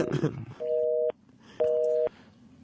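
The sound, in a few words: telephone tone for a disconnected number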